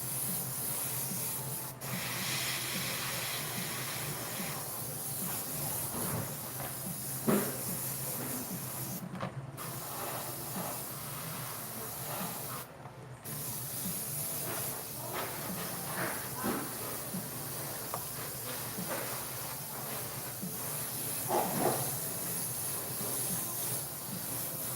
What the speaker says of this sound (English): So I just spray from the bottom up and let it kind of fade up the side.